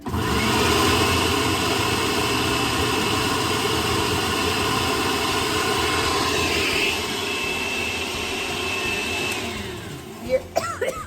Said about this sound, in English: every time the blender's on.